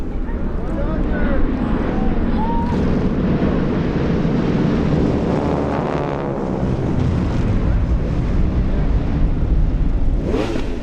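WWII aircraft of the Condor Squadron from Van Nuys passing overhead: a loud, continuous engine roar that swells and shifts as the planes fly over, buffeted by heavy wind noise, with people talking throughout.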